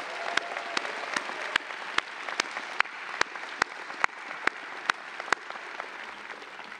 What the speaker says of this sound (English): Please, can we have a round of applause for our graduate faculty?